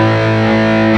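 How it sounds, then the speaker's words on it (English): Electric guitar through a Belle Epoch Deluxe tape echo pedal with the echo volume turned up, a sustained, loud, distorted chord ringing steadily for about a second with no pause. "I'll turn the echo volume more so you can get more of it."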